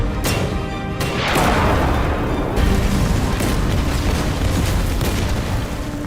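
A deep, rumbling blast of exploding ammunition in a war film swells and roars on, loud and dense, with crashing debris-like noise carrying through to the end.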